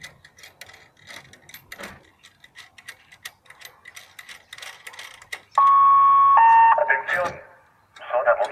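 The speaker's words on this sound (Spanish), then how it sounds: "Vean ustedes ahora en este video lo que se llaman las alarmas vecinales" A neighborhood alarm system in Buenos Aires blares a loud sustained electronic siren tone that then shifts pitch, following a stretch of people talking nearby.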